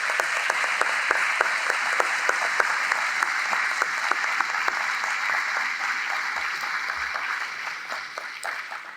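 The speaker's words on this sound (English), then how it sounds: "let's give them one more round of applause as well" Graduation ceremony crowd at Perry Technical Institute applauds faculty and staff, a sustained, even wash of many hands clapping in a large hall, with a few sharper individual claps standing out near the front.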